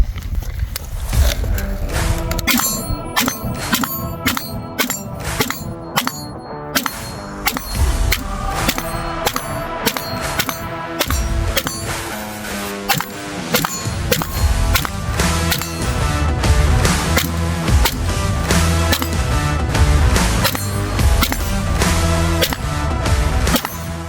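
A PWS Mk111 rifle fires magazine after magazine, its sharp reports coming in quick, steady strings that stay loud and close for the whole stretch.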